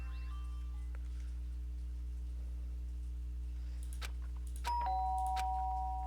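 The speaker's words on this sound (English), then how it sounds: "did I hear the doorbell?" A two-note chime from a video-game doorbell in Danganronpa rings out clearly, plus a few short tonal blips, over a quiet steady background hum.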